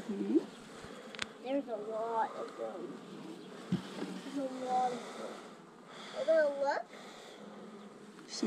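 Honey bees buzz steadily in an open hive where large drones move over the brood comb, a close, continuous hum running beneath people talking.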